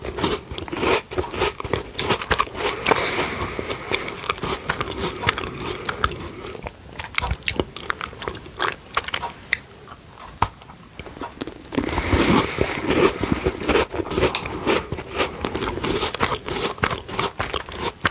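Close, crisp bites and crunching chews of a chocolate and cream Viennese biscuit, irregular crackly crunches continuing throughout at moderate loudness with no talking.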